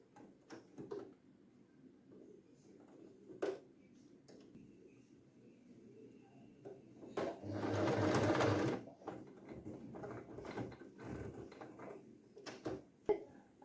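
A sewing machine stitches the pleats of a silk skirt. Quiet handling clicks and taps of fabric work surround a single loud burst of rapid mechanical stitching lasting about two seconds in the middle.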